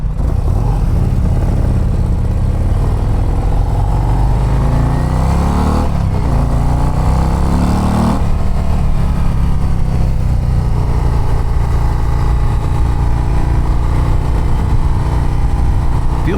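A 2024 Harley-Davidson CVO ST motorcycle engine drones steadily while riding, a loud, continuous low rumble with a rising pitch sweep as it accelerates and shifts, blended with wind roar.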